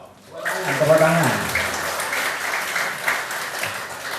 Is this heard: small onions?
no